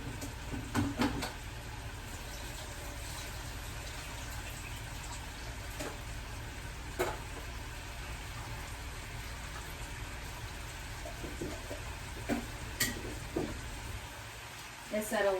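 Pasta being drained in a home kitchen: a steady broadband rush of pouring water and steam runs the whole time, like a sink spill, with a few small clatters and some speech mixed in.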